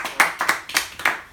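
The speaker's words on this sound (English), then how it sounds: "give yourself a round of applause" A small group of people clapping in a meeting, sparse and unsynchronized, with a few distinct sharp claps landing at uneven intervals, close and fairly loud.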